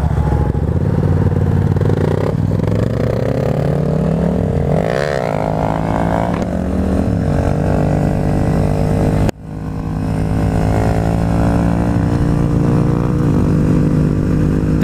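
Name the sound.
motorcycle engine during wheelies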